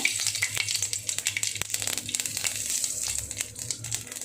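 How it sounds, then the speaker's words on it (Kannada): Mustard seeds and cumin hitting hot oil, a dense close crackling sizzle with rapid sharp pops and spits, steady and unaccompanied by talk. "ಎಣ್ಣೆ ಕಾದಿದೆ ಈಗ ಸಾಸಿವೆ ಹಾಕಿ ಜೀರಿಗೆ ಹಾಕಿ"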